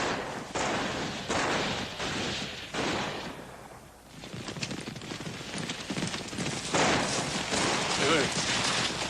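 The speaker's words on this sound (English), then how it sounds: "I sworn I heard gunshots." Scattered gunshots crackle amid galloping hoofbeats and a steady rumble of motion, fairly distant and busy.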